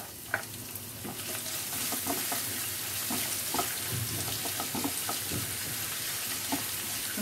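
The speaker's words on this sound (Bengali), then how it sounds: "সুন্দর করে আদা রসুন গ্রেট করে দিয়ে দিলাম তেলের মধ্যে" Grated ginger and garlic frying in hot oil with white cumin for a chicken korma, a steady sizzle with scattered pops and soft stirring clicks, close and continuous with no talking.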